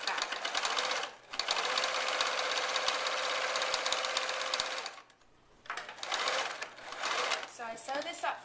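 Sewing machine running a long straight seam through thick fabric for a hat, a fast steady mechanical whir in long bursts with short pauses, up close.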